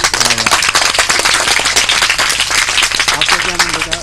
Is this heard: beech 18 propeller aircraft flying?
no